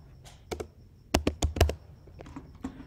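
Keys clatter on a computer keyboard as a project name is entered during Firebase setup, a short burst of crisp close clicks grouped in a quick cluster with a few scattered taps.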